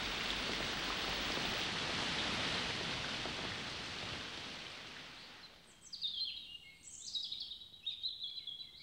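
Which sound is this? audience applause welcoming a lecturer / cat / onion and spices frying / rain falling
rain falling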